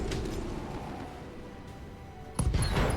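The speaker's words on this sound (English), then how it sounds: "Okay, explosion." Weapons fire and an explosion in the BattleTech video game, with a rumbling blast fading out, then a sharp new burst of impacts near the end, loud and close.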